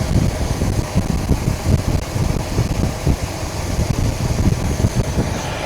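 Steady, rumbling wind buffets the microphone with gusty low roar throughout, no voices, outdoors beside a 1971 Buick LeSabre Custom 455.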